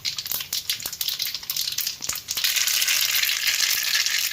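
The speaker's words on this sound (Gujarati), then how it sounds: "રાઈને બરાબર ફોટી જવા દેવાની." Two spoonfuls of mustard seeds pop in about 50 grams of hot oil, with scattered sharp crackles at first that give way to a dense, steady sizzle, close and alone.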